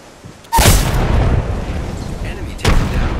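A frag grenade explodes in the Apex Legends video game, a sudden loud boom that rolls into a sustained rumble of battle noise, followed by a second sharp burst near the end, with gunfire mixed into the din.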